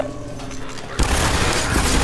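Gunfire in the video game Half-Life 2 erupts abruptly about halfway through, a burst of rapid shots after quieter game ambience with a faint voice underneath.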